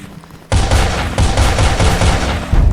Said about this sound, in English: But now there's also a new shooting sound